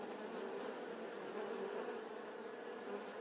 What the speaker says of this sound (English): They are domesticated bees, also known as Italian honeybees.